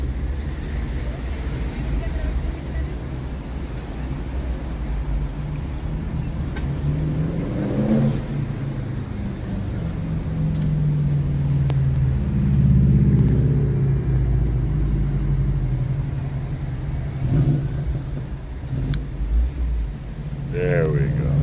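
Car interior stuck in traffic in Hawaii, a steady low engine and road rumble filling the cabin, with a voice talking intermittently over it.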